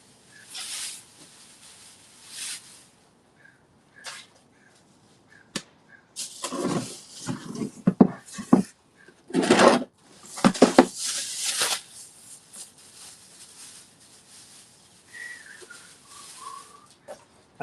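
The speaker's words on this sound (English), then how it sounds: "let's pop them out of the molds and see how they turned out" Cast concrete sculptures knocked and pried out of their molds in a studio: scattered sharp slaps and scraping bursts, some close and loud, separated by quiet gaps, with no talking.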